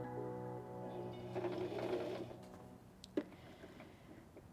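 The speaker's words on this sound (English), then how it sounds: "Lower the presser foot lifter and sew forward about 2 or 3 stitches." A SINGER M3500 sewing machine stitching through fabric, giving a close, steady mechanical hum with a brief sharp click near the end as the motor winds down, no talk.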